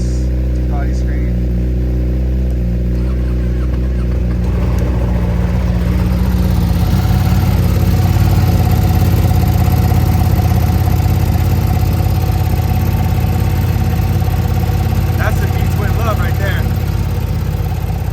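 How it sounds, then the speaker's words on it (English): A Ducati Panigale V2 superbike engine cranks and catches partway through, then settles into a loud, lumpy twin-cylinder idle close by that runs on steadily to the end. "Let's go see if we can get the Ducati started up."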